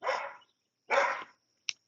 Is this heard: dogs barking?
yes